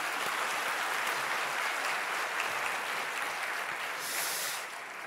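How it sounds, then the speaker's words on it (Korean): A church congregation in Korea applauds preachers during a worship service, a continuous distant wash of many hands clapping, soft and even, tapering slightly at the end. "우리 설교하신 총회장님들께 다시 박수 한번 올려드리겠습니다."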